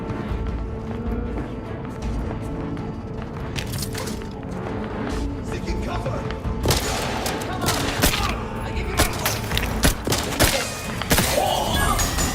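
Rapid gunfire and impacts in The Outer Worlds 2 during a fight, with dense bursts of shots and thuds that grow heavier toward the end, mixed with game voices.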